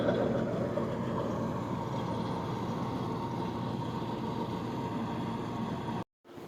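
A tractor idles steadily at a wheat harvest in the evening, a continuous low, rumbling drone heard close, cutting out abruptly near the end.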